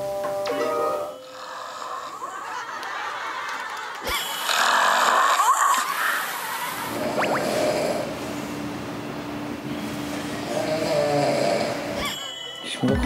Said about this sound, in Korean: 코골어지는 때문에 살 수가 없어.